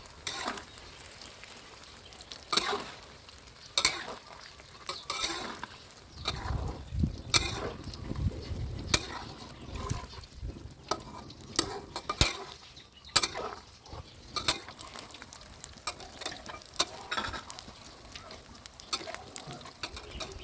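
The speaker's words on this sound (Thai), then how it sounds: "พอเราเทไข่ใส่ลงไปแล้วครับ คราวนี้เราก็เบาไฟลงครับ" Beaten eggs frying in a pan on lowered heat for a Thai garlic and pepper omelette, giving a steady soft sizzle broken by repeated scraping and stirring clatters of a utensil against the pan, with no talk.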